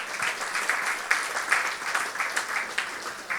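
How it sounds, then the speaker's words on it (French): Church congregation applauding during a worship service, a dense steady wash of many hands clapping with soft rhythmic peaks, fairly close and filling the room, with no talk over it. "vous pouvez applaudir un peu plus fort"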